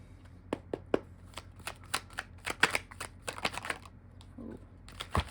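Cards are shuffled for a tarot-style reading: a run of quick, crisp riffling bursts and sharp snaps at close range, with short pauses between riffles and no talking.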